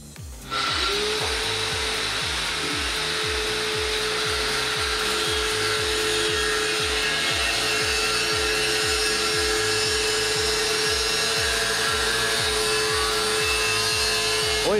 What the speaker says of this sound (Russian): Деволтовская болгарка на сколько? На 650 ватт?